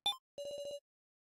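In the video game Your Turn to Die, a short electronic blip is followed by a single fast-trilling phone ring of several rapid pulses, crisp and isolated, then silence.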